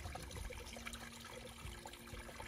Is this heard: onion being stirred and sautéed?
no